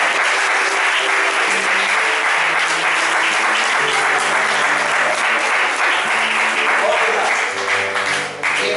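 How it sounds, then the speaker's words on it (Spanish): A church congregation claps long and loud through a lively Friday revival service, the applause steady and dense from start to finish while sustained keyboard or organ notes sound underneath. "Denle un fuerte aplauso al Señor."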